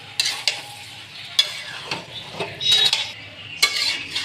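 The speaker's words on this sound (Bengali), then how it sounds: "খুন্তি নেড়ে নেড়ে এরকম জল দিয়ে মাংসটাকে নাড়ছে" A spatula scraping and stirring chicken curry in a metal pan, with irregular close scrapes and knocks over a light sizzle.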